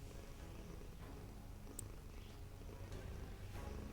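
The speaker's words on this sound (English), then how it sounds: "Your cat is purring." A cat purring close to a microphone during an online tabletop game session, a faint, low, steady rumble that continues alone with a small click partway through.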